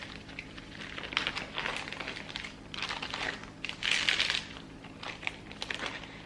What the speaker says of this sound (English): I'll put them inside a Ziploc bag